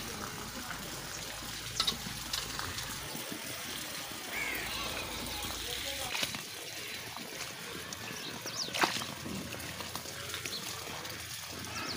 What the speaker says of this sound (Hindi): पानी चलना शुरू हो गया।